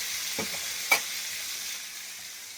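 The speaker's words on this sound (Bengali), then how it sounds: "মাথা ল্যাঁজা ভাজা হচ্ছে, ভালো করে হোক" Fish head and tail fry in mustard oil in a pan, giving a steady, soft sizzle with a couple of brief stirring clinks near the start, alone and close by.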